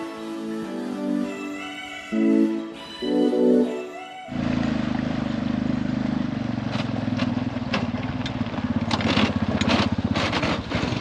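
A gold mine water pump engine runs at a steady, loud drone that starts suddenly after a few seconds of softer, broken sounds, and a light rhythmic rattle rides on top.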